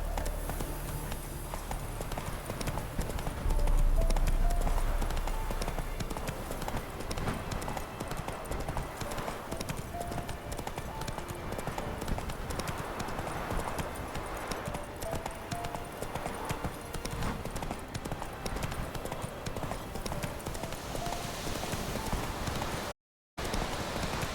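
A horse gallops in The Witcher 3: Wild Hunt, its hooves clip-clopping in a fast, steady rhythm that runs continuously and fairly loud throughout, with a brief dropout near the end.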